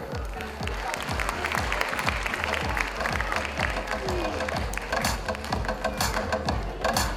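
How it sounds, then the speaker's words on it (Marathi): An audience claps steadily to encourage a student at a coaching-class results ceremony, with dense, sustained applause running throughout and a low rhythmic thumping underneath. "टाळ्या वाजवून प्रोत्साहन द्यावं."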